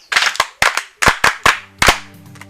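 A few people clap for a girl in an open-air classroom under a tree, giving sharp, loud bursts of claps in uneven clusters with short gaps between them.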